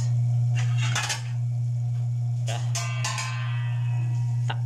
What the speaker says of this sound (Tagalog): takpan muna natin mga guys ha